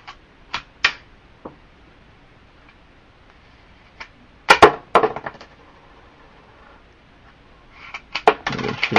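Pennies fired from a penny shooter business card land in a quick volley of sharp clicks and clinks, a few scattered hits early, then a dense burst of metallic ticks and a fast run of shots near the end, close and without speech.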